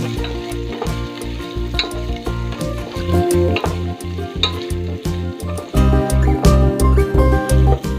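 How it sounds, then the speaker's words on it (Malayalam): Ginger and garlic sauté in the oil left from frying pork for Kerala-style chilli pork, giving a loud, steady sizzle and crackle with irregular stirring clatter throughout, which briefly swells near the end. "പോർക്ക് ഫ്രൈ ചെയ്തെടുത്ത ഇതേ എണ്ണയിലേക്ക് നമുക്ക് അരിഞ്ഞു വെച്ചിരിക്കുന്ന ഇഞ്ചി, വെളുത്തുള്ളി നന്നായി ഒന്ന് വഴറ്റിയെടുക്കാം."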